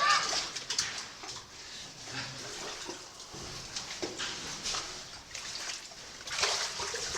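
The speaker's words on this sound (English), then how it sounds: "We watch Doc going through the water here." A caver wades through muddy cave water, the steady sloshing and splashing of legs pushing through the stream filling the passage, with irregular louder surges and trickling between steps.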